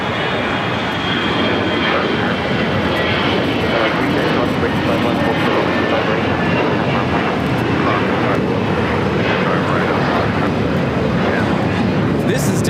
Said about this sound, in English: 663 taking off to Detroit on the A321